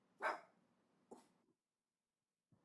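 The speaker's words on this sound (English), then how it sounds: "I don't even know what he's barking at." A dog gives two sharp barks in quick succession, then a short, softer third bark after a pause of silence.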